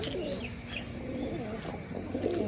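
A male pigeon coos at a pigeon farm in Rajshahi, giving a low, rolling call in short repeated phrases. It is fairly faint and set against a soft background hum.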